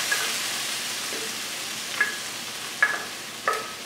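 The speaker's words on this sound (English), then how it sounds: "I'm gonna dump my sauce in there straight from the blender." Green spaghetti sauce poured from a blender into a hot pan, a steady close sizzle with a few sharp pops and splatters near the end.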